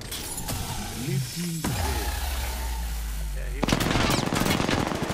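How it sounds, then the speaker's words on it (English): Gunfire in the video game Apex Legends, with a rapid burst of automatic fire breaking in during the second half over game effects and a continuous background drone, while voices talk through part of it. "I am taking fire."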